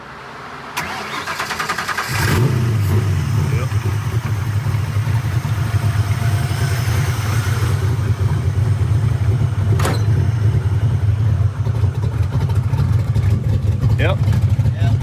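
A hot-wired car engine cranks briefly and catches, then settles into a loud, steady, rough idle running close by for the rest of the stretch, with no talk over it.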